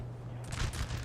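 Musket fire crackles in a Napoleon: Total War battle, a quick ragged burst of overlapping shots heard at a distance and fairly faint after a quiet lead-in.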